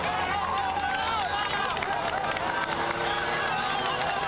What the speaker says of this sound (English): Crowd is urging the men on